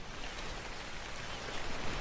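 Rain in the video game ARK falls steadily on a thatch-roofed building, a dense, even hiss with no talk over it.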